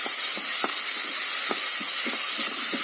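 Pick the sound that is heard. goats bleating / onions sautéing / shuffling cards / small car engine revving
onions sautéing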